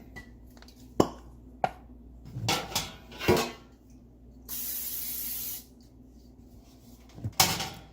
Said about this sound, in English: then we are going to grease the pan